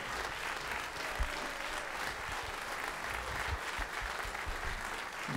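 Concert crowd in Stalden clapping for a singer after La Paloma, a continuous thick roar of applause from many people, fairly close and even throughout with a few louder claps.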